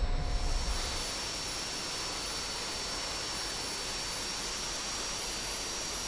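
An F-86 Sabre jet idles while taxiing, a steady loud turbine roar with high whistling whine, constant throughout and without voices.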